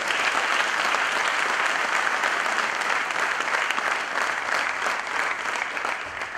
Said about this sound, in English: I think they deserve a compliment in the round of applause.